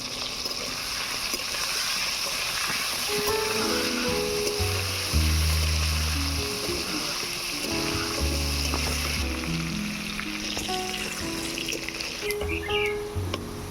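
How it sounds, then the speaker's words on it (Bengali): Potatoes fry in oil with salt and turmeric in a wok, giving a steady, even sizzle throughout, under louder background music with sustained tones. "নুন হলুদ দিয়ে আলুটা ভেজে নেব।"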